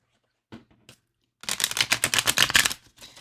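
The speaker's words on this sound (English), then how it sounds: "They shuffle great that way." A new tarot deck with sturdy cardstock is shuffled: a few soft card taps, a pause, then a dense, loud run of crisp riffling flutters lasting nearly two seconds, heard alone and close.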